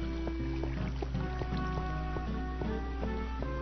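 Flowing water trickles and splashes steadily beside a mining spot in the Minecraft video game, heard under bright repeating game tones and notes, with no talking.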